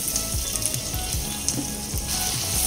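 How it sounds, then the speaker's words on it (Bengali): Chopped tomatoes sizzle steadily in hot oil in a pan while cooking a Bengali desi chicken curry, with a continuous close frying crackle and soft stirring bursts, no voices. "কয়েক মিনিট টমেটো নরম হয়ে আসা পর্যন্ত ভেজে নেব।"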